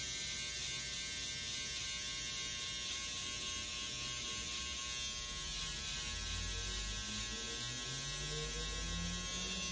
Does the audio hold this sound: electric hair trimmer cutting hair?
yes